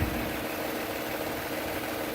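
A 4.3 liter V6 in a 2018 Chevrolet Silverado 1500 LT Z71 Double Cab idles outdoors with a steady, even low rumble that holds at one level throughout, with no voices over it.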